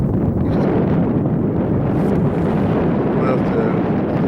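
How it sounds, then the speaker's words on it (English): Strong outdoor wind buffets the microphone in a continuous loud rumble with gusty swells, on a hillside outing near Crieff with an east-southeast breeze; no clear voice rises above it. "the wind strengthened a wee bit from the east-southeast"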